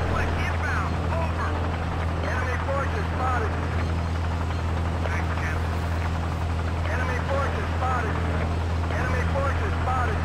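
A military helicopter in Battlefield 2 multiplayer on the Songhua Stalemate map drones with a steady low rotor hum throughout, mixed with engine noise and distant game chatter, while players talk over it.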